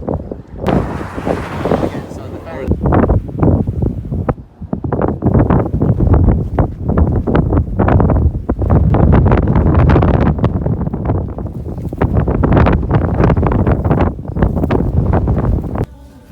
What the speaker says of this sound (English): this wind is because of the inflow going into the storm